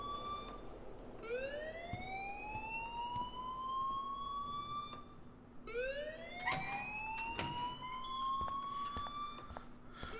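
An alarm in the video game Life is Strange wails in rising siren sweeps, two long cycles, loud and insistent, with a few sharp clicks in between.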